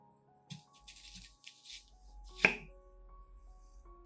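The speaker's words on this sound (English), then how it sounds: "First, use a knife to cut the onion in half." Kitchen knife slicing an onion in half on a board, a few soft taps and shuffles followed by one sharp crisp chop, close and quiet with no talking.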